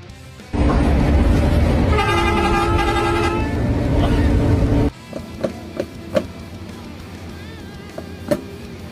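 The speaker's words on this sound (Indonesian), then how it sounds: "bunyi klakson Sumber Group cukup menghibur bagi para bismania" A loud, sustained multi-tone horn from a Sumber Group bus blares for several seconds, then cuts off, leaving road noise with a few short sharp knocks.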